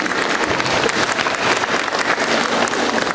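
Audience applause for guests at a school carol concert in Zabiele, Poland: loud, dense, sustained clapping from a large crowd of children and adults, steady throughout.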